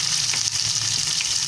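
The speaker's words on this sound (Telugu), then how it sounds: "కట్ చేసి పెట్టుకున్న ఉల్లిపాయలు వేస్తాను" Chopped onions hit hot oil with curry leaves for a tempering for okra tamarind stew, giving a loud, steady sizzle with bright crackling throughout and a few soft stirring scrapes, close up with no talking.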